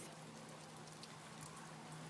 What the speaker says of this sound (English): Oh my god, it is pouring!